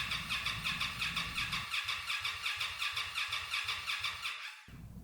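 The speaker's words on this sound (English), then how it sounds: "pull the fuel pump fuse and crank the engine over for 5 seconds to release the fuel pressure" A 2025 Indian Scout motorcycle engine cranks over with the fuel pump fuse pulled, a rhythmic whirring starter churn pulsing steadily for several seconds, then stopping abruptly near the end.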